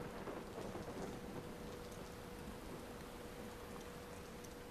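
Steady rain with thunder rumbling in the Watch Dogs video game, a constant hissing downpour with low rolling rumbles underneath, heard on its own at a soft level.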